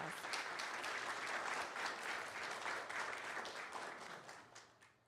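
A county board meeting audience gives a round of applause for JAG students, a dense, sustained burst of clapping from many hands that holds steady before tapering slightly at the end.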